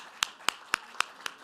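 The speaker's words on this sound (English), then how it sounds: "Keep the applause coming." Slow, evenly spaced hand claps at a faculty award ceremony, about five crisp claps at a steady beat, fairly faint and sparse rather than a full crowd ovation.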